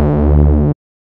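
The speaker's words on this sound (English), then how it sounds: "if I turn it off," A techno bass patch from the Serum synth with its processing turned off plays as one sustained, clean harmonic note lasting under a second, then cuts off abruptly into silence.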